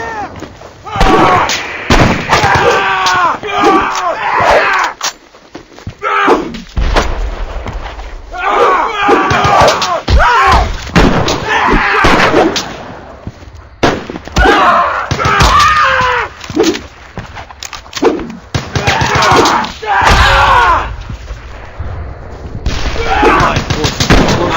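Video game battle with dense, loud gunfire and booming explosions in repeated bursts, broken by brief lulls, while soldiers shout over the fighting.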